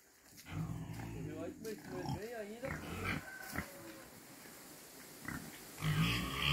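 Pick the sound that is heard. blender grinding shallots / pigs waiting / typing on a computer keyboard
pigs waiting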